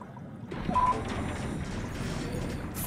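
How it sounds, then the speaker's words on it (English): Water flushes and gurgles in the sci-fi horror video game SOMA, a steady mid-level rushing wash starting after a brief mechanical tone and continuing evenly to the end. "Flushing."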